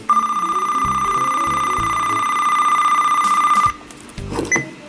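A WeatherX RWB8817DT weather radio sounds its alert: a loud, steady high tone with a fast pulsing beat that holds for several seconds, then cuts off, leaving a few muffled knocks and handling noises.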